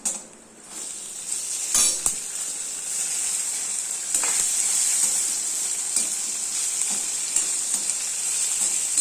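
Onion, curry leaves and garlic sizzle steadily in hot oil for a Tamil manathakkali gravy, with a continuous close frying hiss broken by occasional stirring scrapes of a spoon against the pan.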